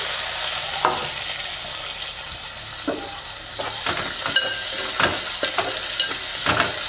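Green chillies and onion pieces deep-frying in hot oil in a pan for a restaurant-style egg curry give a steady, close sizzle, with scattered stirring knocks throughout and no talking.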